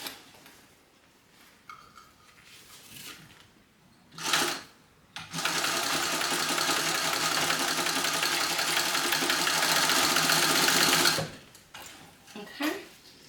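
Sewing machine backstitching a seam on a Brooklyn garment, a few short whirring bursts followed by one long steady run of rapid stitching that stops abruptly, loud and close.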